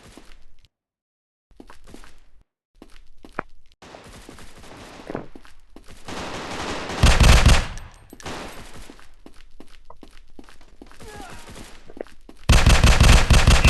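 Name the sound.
gunfire from a weapon in the video game Online Strike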